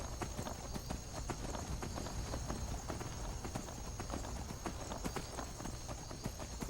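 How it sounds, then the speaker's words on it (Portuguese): The horse Silver galloping in a modded Skyrim, a fast, continuous clip-clop of hooves with a steady rhythm, heard throughout over a constant background bed. "mas eu vou a cavalo."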